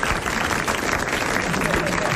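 Studio audience applauding on a 1980 French television variety show, a dense, steady wash of clapping that fills the whole stretch at even loudness, with some voices blended in.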